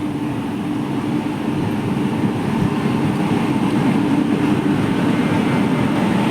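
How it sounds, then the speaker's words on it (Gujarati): A loud, steady low rumble of an Indian Railways train arriving and rolling close by, holding constant without voices. "તો જુઓ ટ્રેન આવે છે,"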